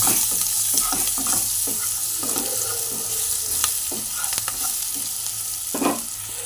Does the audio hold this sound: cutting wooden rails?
no